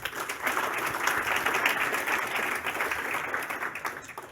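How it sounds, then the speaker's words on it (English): Audience applause for sponsors at a State of the Industry event, a full, even wash of many hands clapping that swells early and tapers slightly near the end. "Thank you, and applause for them too"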